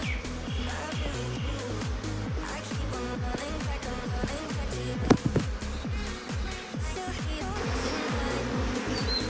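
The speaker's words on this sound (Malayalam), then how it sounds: "തേനീച്ച ആകെ ഇളകിയിരിക്കുക." Agitated honeybees from an underground hive, stirred up with smoke, swarm close around a person's head. Their buzzing is continuous, with repeated swooping passes as individual bees fly near.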